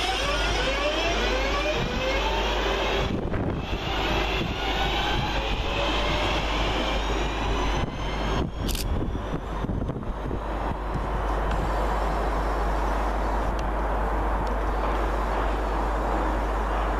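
Two West Midlands Railway class 323 electric units coupled together depart a station, a steady loud rumble of wheels and traction with a high whine, a squeal and clatter over joints as the train pulls away.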